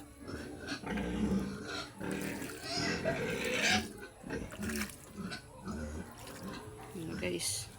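Pigs grunt and snuffle up close in irregular bursts, mixed with wet splashing and a person talking intermittently.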